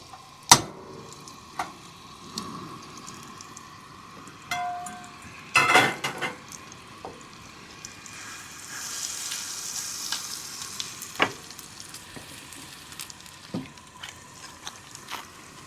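Food fries in a new pan during camp cooking on a road trip: a faint, steady sizzle with scattered sharp clinks and knocks of utensils against the pan.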